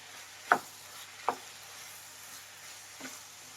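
Capsicum and fresh country tomatoes being stirred in a frying pan with a faint sizzle underneath, marked by two sharp spoon scrapes early on and a softer one near the end.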